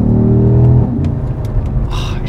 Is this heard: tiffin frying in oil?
no